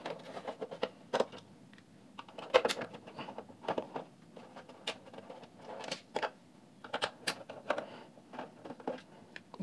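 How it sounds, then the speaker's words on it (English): Screws come out of a Philips RM210 cassette recorder during a teardown: sparse, quiet clicks, taps and scrapes of tool and plastic at close range over near silence, with no talking. "So alright, these 3 screws we have to take out."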